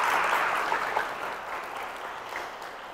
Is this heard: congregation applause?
yes